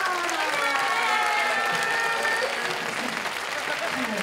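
Audience applause at a live band show in Nagoya, a steady wash of clapping from a crowd with a sustained tonal voice or cheer riding over it.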